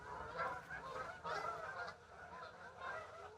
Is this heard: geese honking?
yes